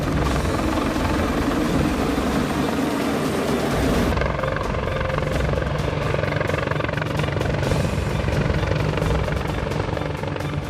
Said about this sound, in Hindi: ठीक उसी वक्त ग्रीनलैंड के आसमान में अमेरिकी हेलीकॉप्टरों ने उड़ान भरी।